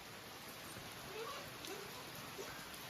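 Heavy rain falls steadily outside a countryside home, a faint, even hiss of downpour with no distinct drops standing out.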